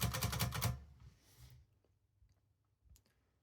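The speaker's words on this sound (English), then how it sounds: "So in order to start typing with the machine, we can return the carriage." A manual typewriter's carriage is pushed back by hand, giving a dense burst of close ratcheting clicks in the first second, then a few quieter mechanical ticks and a soft knock in a quiet room.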